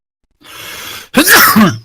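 A single loud, close sneeze: a sharp breathy intake followed by an explosive burst with a voiced, wavering tail.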